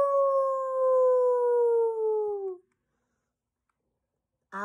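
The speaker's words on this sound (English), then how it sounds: "Next came Wolf, howling loudly." A storybook wolf howls loudly in one long, sustained cry that slowly falls in pitch, followed by a stretch of silence before a brief sound begins at the very end.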